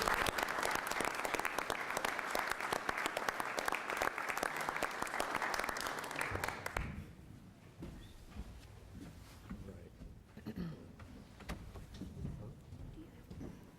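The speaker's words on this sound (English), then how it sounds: "Another round of applause for all the newly elected" A city council chamber audience applauds newly elected officials, a loud, dense burst of clapping that runs for several seconds and then stops abruptly, leaving quiet room noise with faint scattered sounds.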